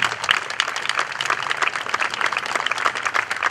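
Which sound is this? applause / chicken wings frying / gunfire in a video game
applause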